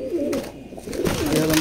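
A male grizzle pigeon in a loft coos in a few soft, wavering calls, close and moderately loud, with light background noise.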